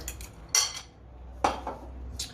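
A utensil clinks against a bowl while olive oil is stirred into eggs with salt for fresh fettuccine dough: a few sharp, separate taps with quiet gaps between them, no talking.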